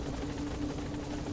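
Continuous rotor drone of a helicopter in the video game Metal Gear Solid V, an even, pulsing hum at a moderate level, brief and without voices.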